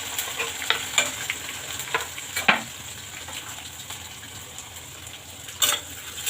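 Onion fries in oil with cumin seeds and curry leaves for an aloo matar curry, a steady close sizzle broken by scattered scrapes and clinks of stirring.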